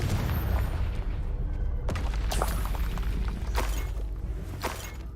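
A Confringo blasting spell going off in a Harry Potter video game, a deep rumbling boom that fills the scene, with sharper bursts and crackles breaking through on top of it.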